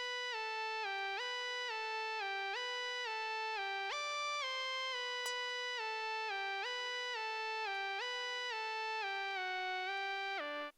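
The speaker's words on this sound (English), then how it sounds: "I think it's the Oxaw lead in Purity" A bright, thin Oxaw synth lead from FL Studio in a drum and bass beat loops a descending stepped pattern steadily, played alone and fairly quiet, with no talk over it.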